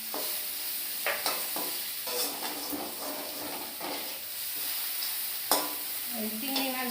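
Prawns fry in a pan with a steady broad sizzle and hiss, broken by several sharp scraping stirs of a spatula; close and moderately loud, with no talking.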